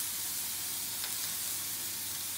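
A steady hiss of extra virgin olive oil being sprayed over a fish fillet before it goes into the oven, close and continuous with no talking.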